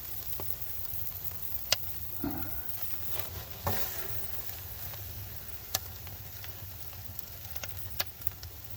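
A 4.2 lb tomahawk steak roasting and sizzling, a faint, steady hiss broken by small pops and crackles at irregular moments, heard close with no talking.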